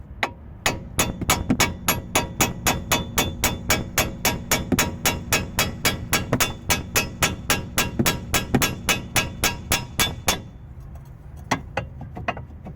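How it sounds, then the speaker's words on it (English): Rapid, evenly spaced metal hammer blows ring out for about ten seconds while hammering out a ball joint bolt on an Opel Astra H, then a few scattered lighter strikes follow. "Finally, you can hammer out the bolt joint."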